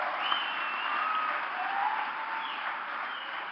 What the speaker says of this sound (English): I love that you guys clap for that.